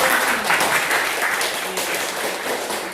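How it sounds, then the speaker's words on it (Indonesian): Applause from a school audience after a student group's classroom performance, a dense, steady patter of many hands clapping throughout, fairly close and loud with no talk over it. "Mari kita berikan tepuk tangan"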